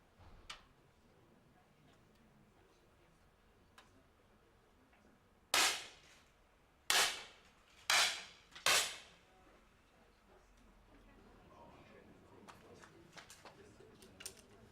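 Four sharp, separated shots from 10 m air pistols at a women's World Cup competition in Munich, each a crisp snap standing out over a quiet hall with faint background noise.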